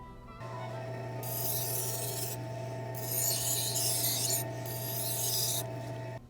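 A knife blade, rusted after a year buried in compost, is ground on a fine grit sharpening wheel. A steady motor hum runs under three bursts of gritty rasping, each lasting about a second, close and even.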